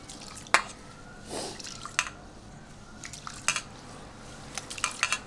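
Gobindobhog rice and mung dal washed in water in a home kitchen, with soft drips, splashes and light clinks of a metal pot, scattered and fairly quiet, no talk.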